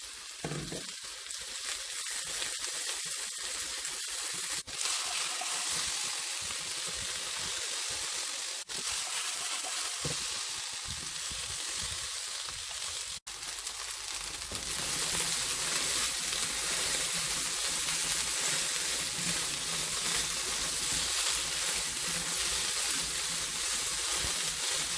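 Potatoes fry with ginger and garlic in a hot pan, giving a steady, close sizzle that runs without a break, with occasional stirring and a brief shift in tone partway through.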